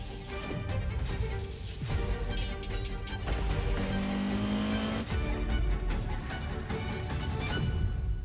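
Ferrari GTO engine in the racing game The Crew Motorfest, loud continuous revving and accelerating with gear changes, brief tire squeal and a rising whine midway.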